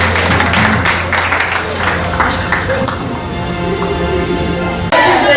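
A church audience at a service applauds loudly and continuously, with dense clapping throughout and a preacher's voice and crowd noise mixed in.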